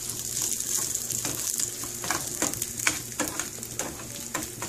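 Sausages fry in a pan with a close, crackling sizzle, broken by sharp pops and spits that come irregularly over a steady hiss, with no voices.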